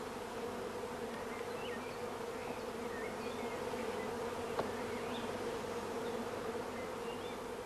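A steady, dense hum of many honey bees buzzing together in a swarm box during queen rearing, constant and close, with a faint click partway through.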